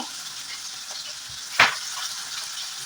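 Onions added to a hot pan fry with a soft, steady sizzle. A brief louder crackle or spatter bursts out partway through.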